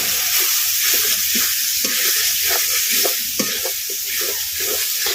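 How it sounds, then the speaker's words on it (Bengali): Chicken with chili powder and cumin powder stir-fried in a pan for a rooftop coal-cooked chicken curry: a loud, steady broadband sizzle runs throughout, with rapid scraping and stirring strokes on top and no voices. "আর দেবো লঙ্কার গুঁড়ো আর দেবো একটু জিরার গুঁড়ো দিয়ে আমি ওকে ভালো করে কষাবো"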